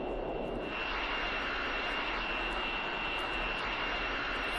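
Airplane engine in flight within the OMSI 2 bus simulator game, set in Vienna: a steady, loud broadband drone holding constant for several seconds with a faint high whine, no voices over it.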